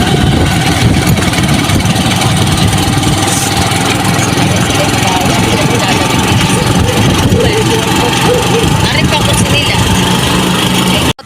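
A motorcycle engine idles close by at a harbor landing, a steady loud rumble that runs unbroken for the whole stretch before cutting off abruptly at the end.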